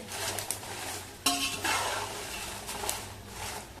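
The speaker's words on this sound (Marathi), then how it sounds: "आता 5 मिनिटं शंकेश्वरी मिरच्या सुद्धा एकसारख्या हलवून चांगल्या भाजून घेतलेले." Shankeshwari chillies fry in hot oil in a pot, a busy sizzle broken by scraping stirs and clinks of a utensil against the metal, one sharp knock near the start of the stirring.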